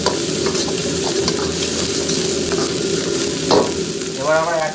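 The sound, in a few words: onion stirred and frying in a pan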